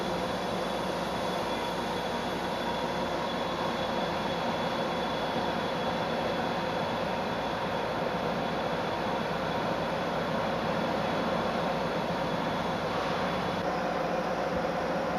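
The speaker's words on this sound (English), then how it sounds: "This production line is insulating a stranded cable by extrusion." Steady industrial drone of a cable extrusion line insulating large stranded utility cable with melted PVC, a constant loud machinery roar and hum with no breaks.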